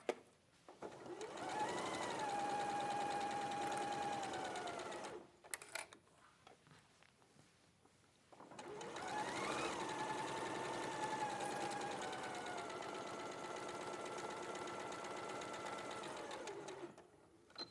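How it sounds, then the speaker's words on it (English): A domestic sewing machine stitches wildlife fabric panels in two long steady runs, a close, even whirring hum that pauses for a few seconds between bursts, with no talking. "And you can do it when you're sewing it as well because you can see where it is."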